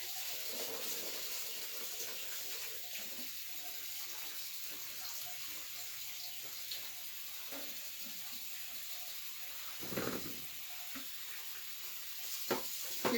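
Cucumbers are rinsed under running water in a kitchen before pickling and canning. A faint, steady hiss of flowing water continues throughout, with a few soft splashes and knocks.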